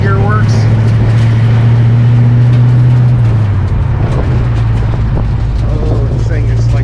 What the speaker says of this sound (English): It's actually not as loud as I thought it'd be with just single chamber Flowmasters